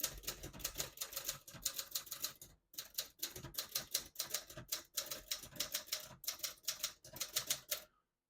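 A 1972 Adler J5 vintage portable typewriter being typed on, with a rapid clatter of key strikes in several bursts, each run ending in short pauses, close and clear with no talking.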